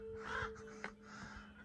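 Crows caw from a distance at a volcanic tableland petroglyph site, a couple of faint, harsh calls spaced apart over quiet background.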